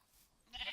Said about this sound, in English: I'm trying to find out where the sheep are. I know there's sheep around here somewhere. I heard them.